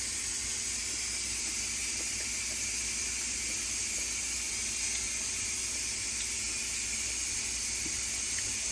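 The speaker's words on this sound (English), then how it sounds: "we're gonna bring this up to a boil" A pot of salted pickling brine for radishes heating toward a boil gives a steady, even hiss, constant and moderately loud with no talk.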